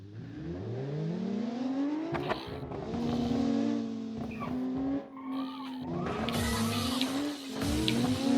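Race cars in the Automation racing game roll off the start line of an Italian touge course, engines rising in pitch with repeated revs and tire skids, loud and continuous throughout with no talking.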